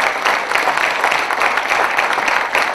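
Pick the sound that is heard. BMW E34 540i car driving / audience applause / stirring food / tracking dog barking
audience applause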